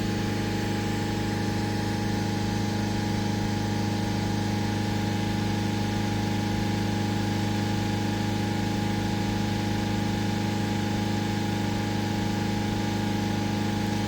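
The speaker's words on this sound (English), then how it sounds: "Revs up at 3000 RPM." A Mercedes CLS engine holds steady at around 3000 RPM, a loud, constant drone with a strong hum and vibration and no talk over it.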